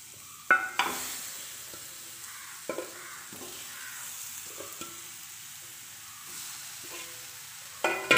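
Chicken pieces go into a pan on the stove with a few sharp clatters and clinks of utensils against metal. A soft, continuous sizzle and occasional stirring scrapes run between them, all close up with no talking.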